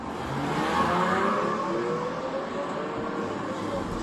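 A police SUV's engine revs and pulls away steadily at moderate distance, a low continuous motor drone with a brief swell in the first second.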